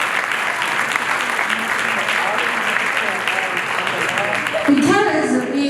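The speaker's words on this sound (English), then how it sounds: "You guys give them a applause." Staff at a Head Start training day applaud their program leaders, a loud dense wash of clapping from a large room, with a voice starting to speak over it near the end.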